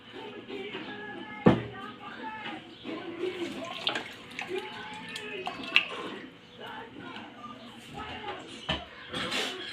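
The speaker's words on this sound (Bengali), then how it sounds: "একটু পানি দিলাম।" Water poured into a pot of chicken with ginger-garlic paste, salt and turmeric, a splashing trickle with a few louder clunks against the pot, while a voice speaks intermittently.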